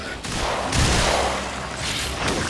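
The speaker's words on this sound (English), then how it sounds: "Destroy it with weapon fire." Sustained weapon fire from the Warframe game, a dense continuous barrage of shots on the Deimos hive mission, loud and close, broken by a brief lull and then continuing to the end.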